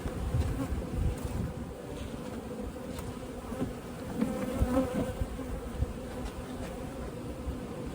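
Bees buzz densely at close range around a hive, a steady droning hum of many insects with occasional louder passes near the listener.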